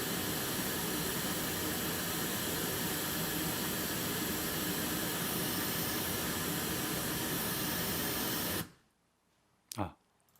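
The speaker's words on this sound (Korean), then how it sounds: "그리고 핑크 노이즈를 켜시고 스타트 버튼을 누릅니다." A pink noise test signal for automatic EQ tuning of a car audio processor plays as a steady, loud broadband hiss, then cuts off abruptly, followed by a short thump.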